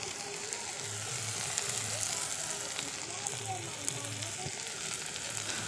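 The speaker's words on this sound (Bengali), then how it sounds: "আর এখানে কি ভাজা হচ্ছে বলো তো? পেঁয়াজ কলি আলু ভাজা।" Onion stalks and potatoes frying in a pan over a smoky wood-fired clay stove, a steady crackling sizzle with faint scraping, continuous and close.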